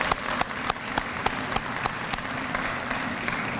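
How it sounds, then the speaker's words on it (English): An audience at a Minnesota community event applauds, a dense, steady wash of clapping with sharp individual claps standing out, continuing evenly with no voices over it. "Let's give them a round of applause."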